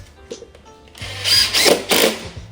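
Motorized window shade clip snapping onto its mounting bracket during installation, heard as a couple of sharp plastic-metal clacks and scraping bursts close to the microphone, with a low hum underneath.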